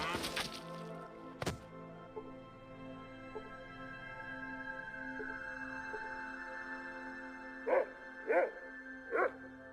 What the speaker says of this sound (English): the dog is herding them in